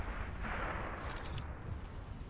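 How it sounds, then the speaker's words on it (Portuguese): A grenade blast in Sniper Elite 5 gameplay, a muffled, rumbling explosion that swells and fades over a couple of seconds, fairly distant and low in level, with a few faint crackles after it and no voices. "Matei na granada."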